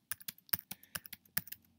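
Quick, uneven keystrokes on a Commodore 64 computer keyboard, about a dozen clicky taps in under two seconds, close and fairly quiet with no voices.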